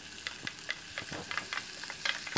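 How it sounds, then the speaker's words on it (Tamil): Onions, green chillies and tomatoes fry in a pan for dosa masala, with a steady close sizzle broken by repeated clicks and scrapes of stirring. "ஓரளவுக்கு வெங்காயம் வதங்கிருச்சு இப்போது கட் பண்ணி வச்சுருக்க பச்சை மிளகாவை சேர்த்துருங்க"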